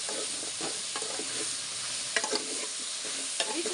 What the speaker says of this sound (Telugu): బెండకాయలు, టమాటోలు, పచ్చిమిరపకాయలు వీటన్నిటిని కలుపుకుందామండి ఒకసారి.